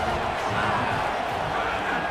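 A hostile stadium crowd at a college football game between FSU and UVA, heard as a dense, continuous roar of many voices that stays loud and unbroken throughout.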